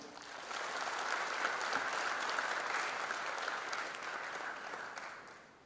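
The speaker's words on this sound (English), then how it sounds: "Give a big applause to him" Auditorium audience applauding a speaker at a freshers' induction program, a steady wash of many hands clapping heard from a distance, fairly faint, swelling in and tapering off at the end.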